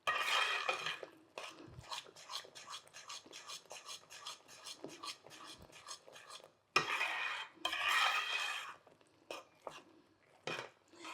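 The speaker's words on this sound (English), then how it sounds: "it's leaving the pot as we're stirring" A spoon scrapes and stirs thick almond roca mixture around a pot on the stove, with busy repeated scraping and clinking strokes, a few short pauses between bursts.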